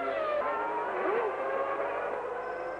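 A 1990s Formula 1 car spinning out during a tyre change phase of a race, heard as a distant engine whine with shifting pitch and a brief skid-like sweep, over steady circuit noise.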